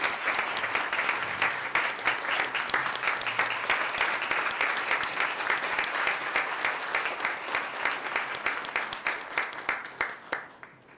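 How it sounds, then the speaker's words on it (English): A Board of Education meeting audience gives students a warm round of applause: close, steady clapping for around ten seconds that thins out and fades at the very end. "Let's give these students a warm round of applause."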